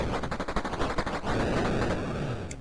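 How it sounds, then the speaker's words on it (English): Shooting in an Atari video game, a fast, harsh burst of rapid-fire shots with crackling blasts, loud and dense for a couple of seconds before settling into a rough, noisy rumble. "There's a lot of stuff to blow up and to shoot."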